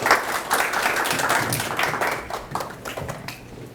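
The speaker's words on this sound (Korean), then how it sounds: "박수로 환영해주세요." Audience applause welcoming a lecturer at a public science talk on hydrogen energy, a dense steady wash of many hands clapping that carries on evenly and fades slightly toward the end.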